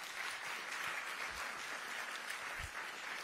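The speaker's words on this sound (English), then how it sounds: "give them a round of applause" An audience applauding a panel at an evening presentation, steady, dense clapping from many hands heard at a distance with no talk over it.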